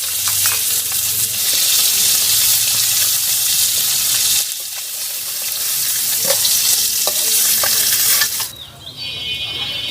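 Fish fries in hot oil in a wok in a village kitchen, giving a loud, continuous sizzle with a brief dip partway and a clatter as it is lifted out at the end.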